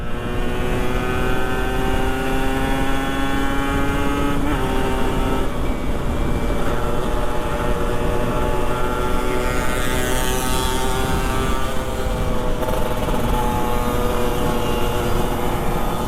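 A steady two-stroke motorcycle engine drone with rising and falling harmonic tones, revving continuously throughout with no voices.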